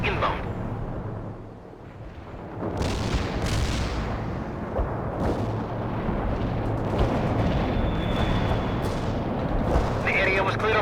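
Artillery fire in the video game World in Conflict, a continuous heavy rumble of booms and blasts with several sharper bursts rising above it, loud and dense throughout.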